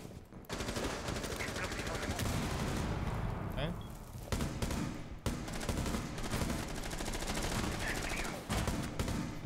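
Rapid automatic gunfire from a first-person shooter video game, dense continuous bursts with brief gaps, with a player talking over the shooting.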